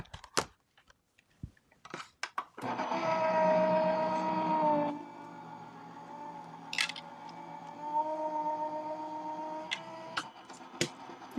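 A die cutting machine runs glitter foam through its rollers, a steady mechanical whirring hum that starts after some scattered clicks and handling noises, grows louder for a couple of seconds, then continues more softly with occasional taps.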